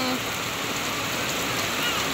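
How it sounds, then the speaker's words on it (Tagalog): Heavy rain pours down steadily in a typhoon outside a small home shop, a dense, continuous roar of water with no pauses, loud and close throughout. "Sobrang lakas naman po ng ulan ay mababasa"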